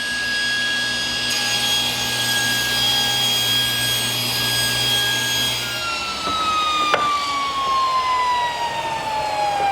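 Table saw trimming the first cut on a sacrificial wooden fence, a steady loud running whine with the blade cutting through wood, the pitch shifting partway as the cut finishes.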